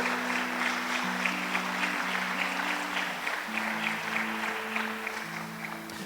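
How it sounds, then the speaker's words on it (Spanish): A church congregation claps throughout as a steady mid-level patter, with a sustained musical tone from a keyboard or organ running beneath it. "Dale un fuerte aplauso a Cristo."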